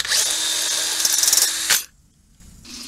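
A power drill whines steadily while removing a bolt from a top-manifold pool DE filter. It runs close and loud for under two seconds, stutters near the end and cuts out, then a short, fainter burst follows.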